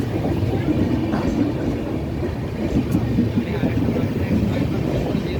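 A Panskura local train rumbles along steadily up close, a continuous low roar with faint rattling running the whole time.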